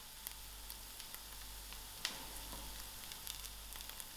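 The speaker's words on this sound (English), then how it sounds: "I'll give this a few seconds to fry." Crushed garlic, curry leaves and chillies sizzle in a pan with a soft, steady hiss and scattered small crackles, quiet and close.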